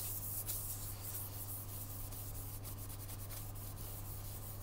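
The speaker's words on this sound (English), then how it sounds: "so we're going on with a shellac sealer. This is a blonde shellac." Blonde shellac sealer being applied to a turned grass tree root: close, steady rubbing friction with an even texture over a constant low hum, continuing without a break.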